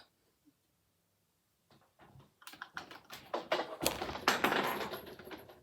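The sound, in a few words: scissors snipping cross stitch fabric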